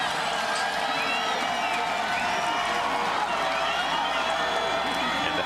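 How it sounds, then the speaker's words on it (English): Gamecock football fans who stayed through the fourth quarter cheer in a stadium for the JSU defense, a continuous broad roar of crowd noise with scattered whoops and clapping, heard at a distance and unbroken. "Gamecock fans, the ones who have remained behind here in the fourth quarter, cheering on this JSU defense"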